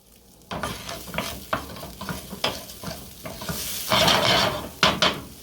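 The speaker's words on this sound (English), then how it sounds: "Now you slowly cook the rice when you're making risotto. You slowly cook it with the stock." Risotto rice cooking slowly with stock in a pan, with a soft sizzle and bubbling under repeated stirring scrapes that grow louder toward the end.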